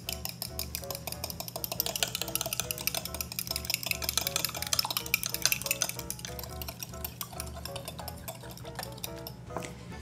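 Egg being mixed into gluten- and dairy-free scone batter in a bowl, rapid continuous clinking and scraping of a utensil against the bowl, close and steady for the whole stretch, with a brief murmur of voice.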